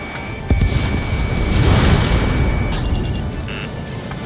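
Missile launch and explosion in Ace Combat 7, a sharp onset followed by a long, loud, booming rumble that swells and slowly fades, with faint radio chatter and cockpit tones.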